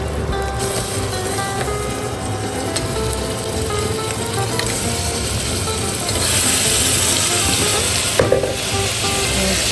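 Mutton pieces fry in ginger garlic paste for a spicy curry, giving a continuous close sizzle with occasional scraping and clinking as the pan is stirred.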